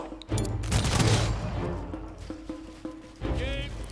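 Army units firing in the strategy video game Humankind, a burst of overlapping gunfire volleys followed by several sharper individual shots, moderately loud over game background sounds.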